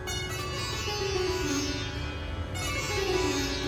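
A shimmering, sustained wash of resonating sitar sympathetic strings with a droning, bright metallic ring that swells continuously without a break.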